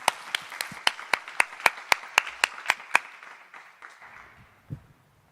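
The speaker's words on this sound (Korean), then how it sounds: "박수로 환영하겠습니다" A church youth congregation claps to welcome the preacher: about a dozen sharp, evenly spaced claps in a steady rhythm that then fade into softer scattered clapping and quiet.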